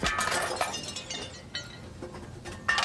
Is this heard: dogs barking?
no